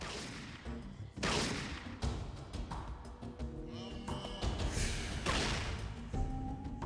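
Gunfire in the video game Fallout: a series of sharp shots and booms ring out over a busy game soundtrack, with bursts clustered loudly through the stretch and a faint voice briefly underneath.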